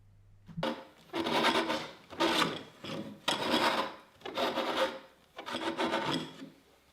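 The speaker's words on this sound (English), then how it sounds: "Firstly, lightly scrape the nose with a kanna or planer so it is easier to scrape the pole." A bamboo pole scraped by hand with a kanna planer, giving six rasping strokes in a steady rhythm with short pauses between them, close and clear with no talking.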